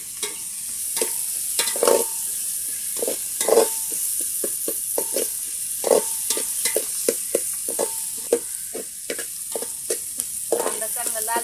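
Onions frying in oil in a village-style mutton curry pan, stirred over and over, with repeated scraping spoon strokes over a steady close sizzle and no talking.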